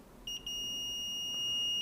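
A multimeter in continuity mode beeps while probing the PPBus G3H rail on a MacBook Pro 15-inch A1990 board with a short circuit. A thin, high tone stutters briefly, then holds as one steady, clear beep over quiet background.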